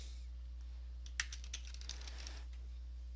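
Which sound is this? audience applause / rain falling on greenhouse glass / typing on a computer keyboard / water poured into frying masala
typing on a computer keyboard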